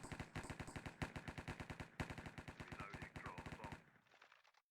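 Rapid automatic gunfire in the Minecraft Mine Strike minigame, sustained and loud for several seconds with steady, evenly spaced shots, then cutting off to a fading tail.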